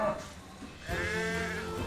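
A ram, a male sheep kept on a farm alongside cows, gives a drawn-out wavering bleat that rises in the second half of the short sound, close by, after a quieter stretch of faint background noise.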